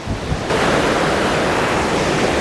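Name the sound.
creek water flowing while panning for gold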